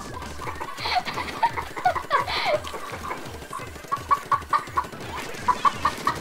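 Chickens cluck steadily in quick repeated bursts, close and clear, over a constant rhythmic thumping beat with no talking.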